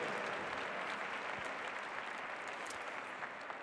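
Sustained applause from a show jumping audience at an equestrian competition, a dense, steady wash of many hands clapping that holds evenly for the whole stretch with no voices over it.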